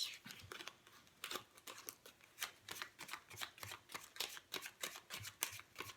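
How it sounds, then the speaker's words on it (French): Tarot cards being shuffled and drawn at close range, a steady run of quiet riffling flicks and papery snaps with no voices. "je vais prendre la carte du consultant et la carte de la consultante"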